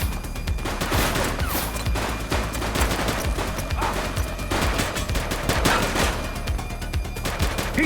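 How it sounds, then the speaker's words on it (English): Rapid gunfire in The Precinct police video game, including revolver shots, dense overlapping bursts of loud reports continuing throughout with no pauses. "He's shooting!"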